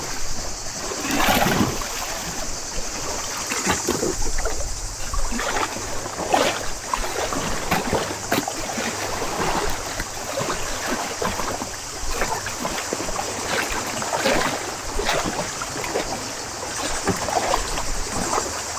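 A boat moving on water, with continuous splashing and lapping and irregular surges of spray, steady and fairly close over a long stretch without talk.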